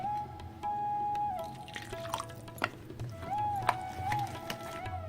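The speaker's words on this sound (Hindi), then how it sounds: "मिक्स करने के बाद इसमें पानी डालेंगे।" Water being poured into a semolina and yogurt batter for dhokla, a soft liquid trickle with drips and splashes in a home kitchen, close and moderately quiet.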